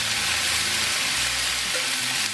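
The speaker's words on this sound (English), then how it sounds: "Nothing like sizzling fajitas." Steak fajita meat sizzles loudly and steadily in a hot wok, a dense continuous crackling hiss close up.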